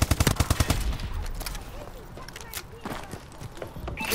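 Rapid bursts of paintball-style gunfire from Call of Duty: Advanced Warfare, a quick string of sharp pops at the start followed by scattered quieter shots and game noise.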